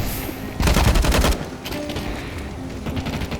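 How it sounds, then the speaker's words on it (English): Sniper rifle fire in a video game set in rainy night-time Italy, a burst of loud rapid cracking shots followed by scattered further gunfire over a rain-like background hiss. "I hear a sniper."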